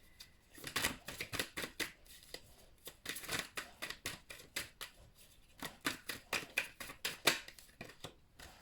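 Oracle card deck shuffled by hand in repeated bursts of riffling, flapping card sounds, close and fairly quiet, with no talking.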